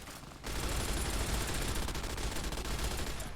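Gunfire in the video game Fallout New Vegas, a rapid dense burst of automatic shots that starts after a brief quiet moment and continues steadily, fairly faint and without talk.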